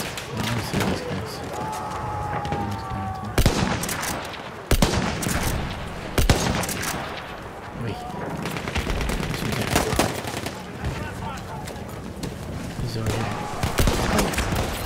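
Gunfire in the video game Battlefield 1 during a multiplayer sniper match on PlayStation 5, with sharp loud shots and bursts over a dense battle din and talking throughout.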